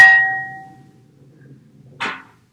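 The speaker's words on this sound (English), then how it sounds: "That was the bell." A single bright metallic ding rings out and decays over about half a second, followed after a pause by a short, sharp clang, close and heard alone.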